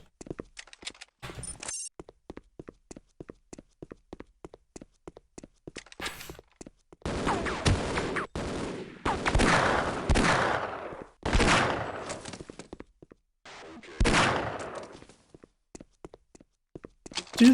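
Gunfire from a revolver in a video game, heard as short sharp shots scattered through the clip, with a few denser bursts in the middle and no talking.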